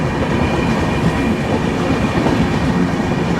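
The Delhi to Secunderabad Rajdhani Express rolls slowly into Manjri Junction railway station, a dense, steady rumble of wheels and carriages heard from on board, loud and continuous without pause.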